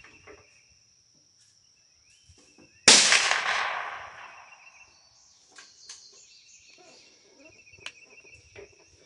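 A single loud, close shot from a black powder single shot cartridge cavalry carbine, a sharp crack with a long rolling decay outdoors, with insects chirping steadily in the quiet before and after.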